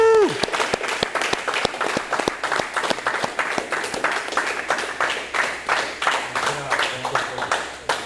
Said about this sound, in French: je voulais un petit tonnerre d'applaudissements pour Thomas